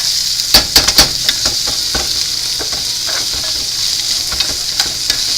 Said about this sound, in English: trying to stir it so that all the potatoes have a little bit of butter on them, or margarine